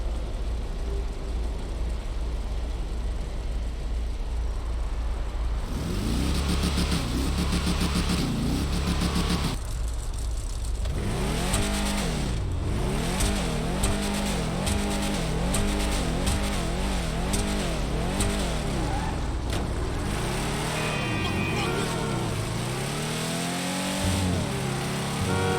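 A Tampa car engine in GTA 5 idles, then revs hard repeatedly, its roaring exhaust sweeping up and down in pitch with rapid throttle blips, loud and close.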